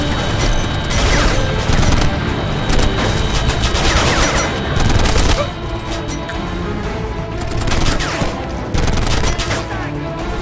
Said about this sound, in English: Watch out! Machine gun!